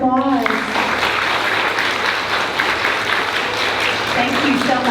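An audience at an elementary school fifth grade celebration gives a round of applause. The dense, sustained clapping fills the room while a voice talks briefly at the start and again near the end.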